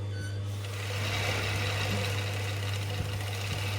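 A sewing machine stitches slowly through four layers of fabric, two of them wadding, for an ironing board cover. Its motor drones steadily and close, with a strong low hum and faint mechanical ticking and no voices.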